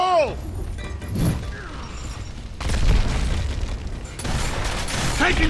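A grenade explosion in the video game Gears of War, with a heavy boom and roar among ongoing battle noise and bursts of fire, loud and close.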